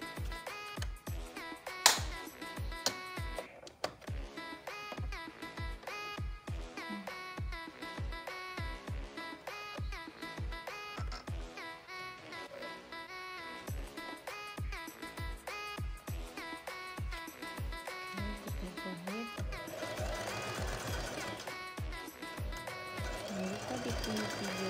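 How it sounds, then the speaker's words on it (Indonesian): A sewing machine stitches a seam on a side-slit bergo hijab, a long steady run of fast, close needle clatter with a few louder thumps and a denser whirring stretch near the end. "Jadi kita jahit bagian ini. Oke, kita jahit terlebih dahulu."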